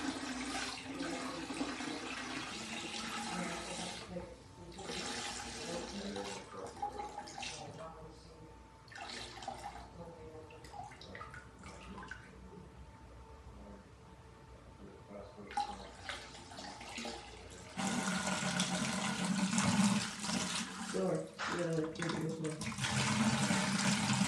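A siphon vacuum sucks debris from the sand bed and rocks of a 120-gallon reef tank, giving faint rushing, gurgling water that swells and fades, then grows louder near the end, with a voice talking at times.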